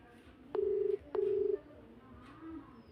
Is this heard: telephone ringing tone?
yes